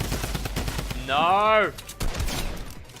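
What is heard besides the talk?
drum gun firing in a video game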